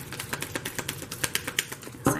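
Tarot cards are shuffled in a steady run of quick papery riffles and taps, close and fairly loud, ending in a firmer slap.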